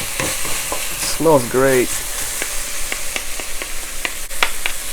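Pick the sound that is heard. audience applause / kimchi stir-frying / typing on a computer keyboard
kimchi stir-frying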